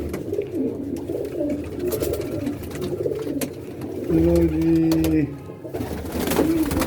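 Pigeons coo in low, repeated warbling calls, one bird close and clear for about a second mid-way, over soft background noise and occasional voices nearby.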